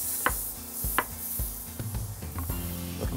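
A knife makes several quick, crisp slicing taps through fresh strawberries on a board, set against a faint background hum.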